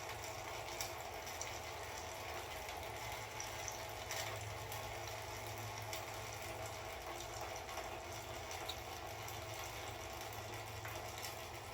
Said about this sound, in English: And that is a lot of fluid coming out of this thing.